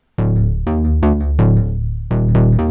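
Soloed bass line from an electronic track, a run of punchy, harmonically rich synth bass notes repeating in a steady rhythm, loud and upfront with no other instruments.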